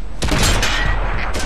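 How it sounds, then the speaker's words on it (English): A tank cannon fires in a tank combat video game, one loud blast that swells into a sustained rumbling roar and then decays, heard close with no talking. "Ready to fire on target."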